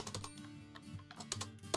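Rapid, irregular keyboard key presses clatter at close range in quick bursts, light clicks running steadily throughout with no voices.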